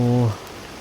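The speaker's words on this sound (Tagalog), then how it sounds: "ang lakas talaga ng ulan tol" A brief voice at the start gives way to a loud, dense wash of heavy rain hissing steadily close by.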